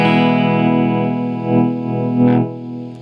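A sustained electric guitar chord rings through a fuzz pedal with a permanently mixed-in clean signal, the clean tone blended under the gritty buzz, swelling slightly before fading.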